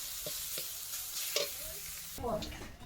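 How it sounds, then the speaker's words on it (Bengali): Greens frying in oil in a pan over a wood-fired kitchen stove, a soft continuous sizzle with a few scraping stirs and clinks of the utensil, faint and close. "একটু তেল দিতে হবে, একটু নাড়াচাড়া দিয়ে নেব।"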